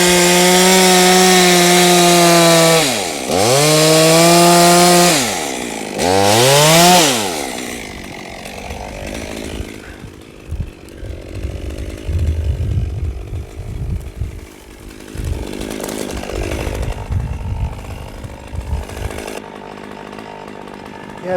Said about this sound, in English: And then the cut, the felling cut.